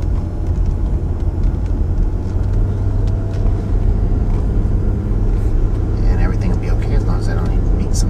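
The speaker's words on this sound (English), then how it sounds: "Truck coming down the hill." A truck rolls down a hill above a creek canyon on a foggy harvest morning at a vineyard, a steady low rumble that stays close and loud throughout with no break.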